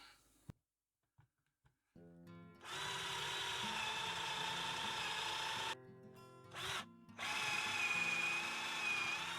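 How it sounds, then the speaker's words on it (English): A power drill whirs in short bursts, then runs steadily into wood with a grinding hum, pausing briefly twice before resuming. "Ready to drill."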